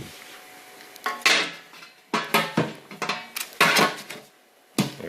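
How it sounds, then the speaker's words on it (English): The lid of a Cel-Fi cell signal booster unit is fitted back on without its screws, giving a series of close, sharp plastic clacks and rattles in irregular bursts, with no voices. "Now watch when I put the lid back on"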